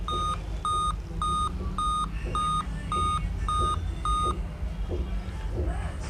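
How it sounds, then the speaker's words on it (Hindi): A Dell N5010 laptop with no display sounds a beep error code: eight short, evenly spaced electronic beeps in a steady run, loud and close, with a low hum underneath. "तो ये 8 बीप्स की प्रॉब्लम आ रही है।"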